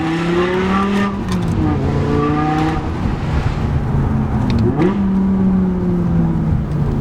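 Straight-piped V10 in a six-speed BMW M6 revving hard and loud through the gears, its pitch climbing and then dropping at each shift, up close and with no talk.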